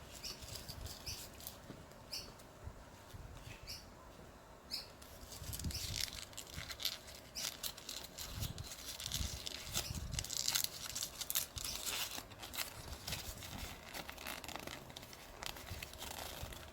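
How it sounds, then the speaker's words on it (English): A sheet of paper being crumpled and screwed into a ball by hand, giving a run of crackling, rustling bursts that swell and fade over several seconds at close range with no talk. "let's get now a piece of paper here, and I'm going to screw it in a ball"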